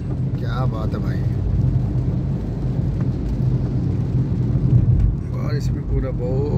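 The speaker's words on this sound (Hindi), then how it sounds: "बारिश ही बारिश हो रही है गाइस" Heavy monsoon rain and road spray roar steadily around a car driving on a wet road, a continuous close wash of noise with a few faint voice-like sounds at the start and end.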